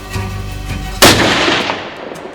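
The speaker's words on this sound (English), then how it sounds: "Shoot him again." A hunting rifle fires a single loud, sharp shot at a bull in the Yukon wilderness, and the report echoes and fades over the next second.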